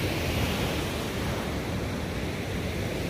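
Ocean surf rolls onto the beach at Sea Bright, New Jersey, a steady broadband wash of breaking waves heard up close and continuous, with no voices.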